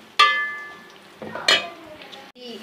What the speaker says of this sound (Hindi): तो घी हो चुका है गर्म, प्याज शामिल करते हैं